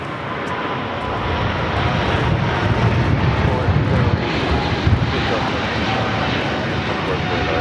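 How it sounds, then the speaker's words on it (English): Eva Air Cargo Boeing 777 freighter jet rolling toward runway 25 Left at Los Angeles International Airport, a steady loud engine roar holding for several seconds with slight wind buffeting. "Eva Air Cargo 777 freighter now rolling down to 25 left."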